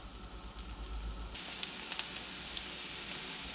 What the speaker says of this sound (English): so get my onions in.